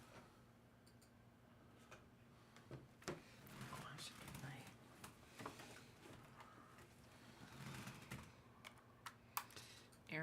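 A computer mouse clicked repeatedly at close range, sharp light ticks scattered across ten seconds under quiet background voices in a room.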